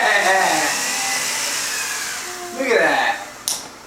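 A small remote control helicopter flying inside a house, its rotor whining steadily with pitch shifts as it manoeuvres, close and fairly loud, with a brief louder surge near the end and voices talking over it.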